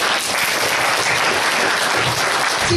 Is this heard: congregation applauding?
yes